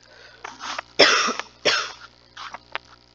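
Several close coughs in a short burst, the strongest two in the middle, followed by a couple of smaller hacks.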